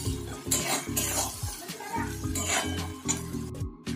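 A spoon scrapes and clatters in a pan while onion, tomato, ginger-garlic paste, salt, turmeric and chili powder are stir-fried, with soft sizzling under steady metallic stirring up close.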